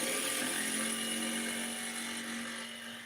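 A power drill bores into material during a home improvement job, a steady whirring hum with a sustained tonal whine that runs alone for a few seconds and eases slightly toward the end.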